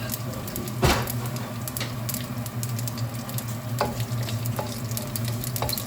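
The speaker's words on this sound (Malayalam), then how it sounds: "കടുക് പൊട്ടുമ്പോൾ തന്നെ മുളക്, വറ്റൽ മുളക് 2-3 ഇട്ട് കൊടുക്കുക" Mustard seeds and a few dried red chillies frying steadily in hot oil, a continuous close sizzle with scattered pops and crackles and one brief louder burst near the start.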